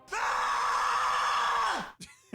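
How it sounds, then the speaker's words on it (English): Scream sound effect marking the end of a timed segment on a sports podcast: one loud, sustained high-pitched scream lasting nearly two seconds, then cut off abruptly, with no talk over it. "The scream indicates our time is up with the 3-minute drill."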